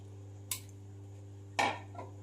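Mutton pieces go into a pressure cooker with no oil, making two short metallic clatters over a low steady hum, the second clatter louder and followed by a softer clink.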